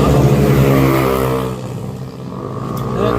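Motorcycle engines rev loudly and steadily at a roadside stop in Infanta, Quezon, a continuous close engine roar that dips briefly in the middle before swelling again, with no talking.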